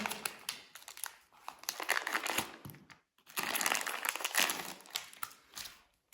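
Crinkly plastic packaging around a 12-volt laser level gets crumpled and torn open by hand, with close, irregular bursts of rustling and crackling separated by brief pauses.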